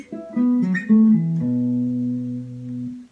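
On guitar, a short descending line of stacked fourths voicings is played, several quick chord stabs stepping down before a final chord rings and sustains, close and clear with no talk.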